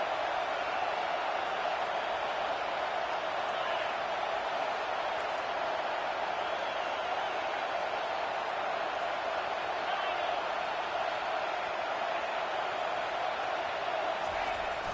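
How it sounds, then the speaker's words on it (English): Crowd at a college football game in an Ole Miss stadium, a broad continuous roar that holds steady and loud throughout under a commentator's voice. "This crowd bringing an ear-splitting welcome to their visitors."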